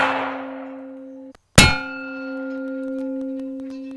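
Steel target struck by a 300 grain round, a sharp crack followed by a loud metallic clang that rings on with a sustained, slowly fading tone.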